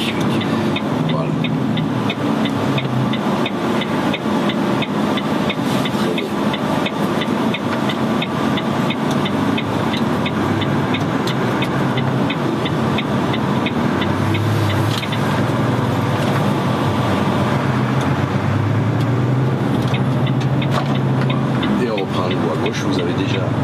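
Car driving on a road during a driving lesson, its engine humming continuously with road noise, while people talk inside over the drone.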